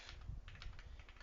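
Quick, faint clicking of keys on a computer keyboard, a short burst of several soft taps typed close by.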